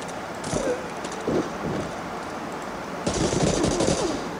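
Gunfire in the video game Medal of Honor: Allied Assault on a snowy map: short rattling automatic bursts, moderately loud, over a constant windy background.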